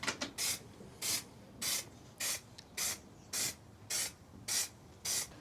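Bursts of aerosol spray hit the floor of a Chevy Express van being built out, about nine evenly spaced short hisses in a steady rhythm, close and clear, with no talking.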